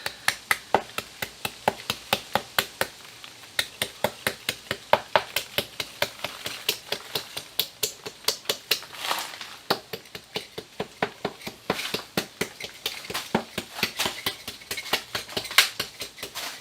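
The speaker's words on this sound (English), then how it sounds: "just take your chisel and just gently go all the way around" A chisel works around the edge of a silicone atlas stone mold, making a steady train of close, sharp scraping and tapping strokes, about two or three per second, with no talk.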